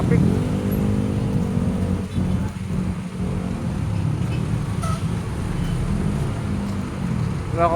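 Heavy road traffic with cars and large trucks slowed by waterworks roadwork in the Philippines, a steady low engine rumble with passing vehicles nearby, while people talk over it.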